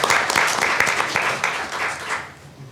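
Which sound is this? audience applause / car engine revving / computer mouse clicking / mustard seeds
audience applause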